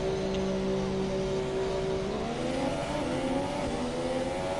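A Formula 1 race car engine in the racing game F1 2017 revs loudly and steadily, its pitch climbing and shifting through gear changes with no talk over it.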